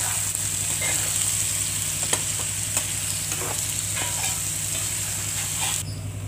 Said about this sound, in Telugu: దీన్ని ఇలా బాగా తిప్పుకోవాలండి పేస్ట్ మొత్తం కలిసేలాగా